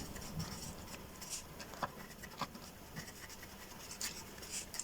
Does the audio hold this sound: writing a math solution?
yes